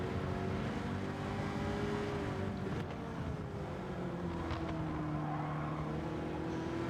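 A Camaro ZL1 1LE race car in Gran Turismo 7 drives with a steady engine drone and rising and falling tones as it shifts through the gears, under constant rushing noise.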